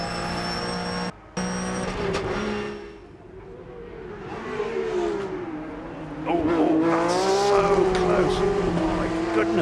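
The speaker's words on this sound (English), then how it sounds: "he tucked that into the apex of Malcolm and had a big slide" A Porsche race car at speed on the tarmac of the Goodwood timed shootout, its engine note loud and close, dipping briefly and then climbing and wavering through the corner as it slides.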